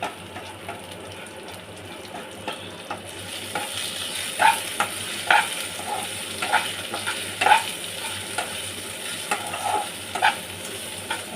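Moong dal fries in hot oil, producing a continuous close sizzle broken by regular clinks of a spatula stirring against the pan, about once a second, with no talking.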